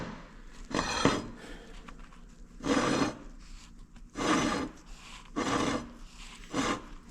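Hand file rasping across the beveled gear teeth of a flywheel from a Detroit 2-53 engine, five distinct scraping strokes roughly a second apart, close and fairly loud with quiet pauses between.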